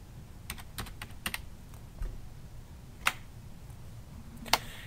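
Computer keyboard keys are pressed in scattered, separate clicks, a few close together and others spaced apart, sounding faint and near against a quiet room with no talking.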